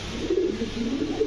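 Pigeon cooing close by, a soft low throaty coo repeated twice in a short stretch, with no voices over it.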